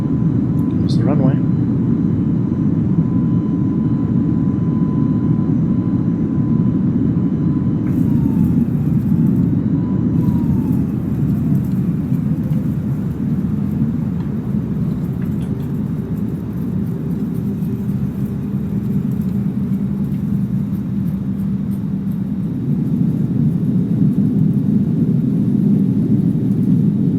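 Airliner descending and touching down on the runway at Durban King Shaka airport, a loud steady cabin roar and engine rumble throughout with a falling whine, heard from inside, while a voice speaks over it.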